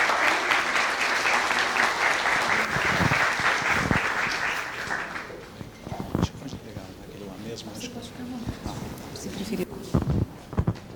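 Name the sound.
audience applause welcoming a speaker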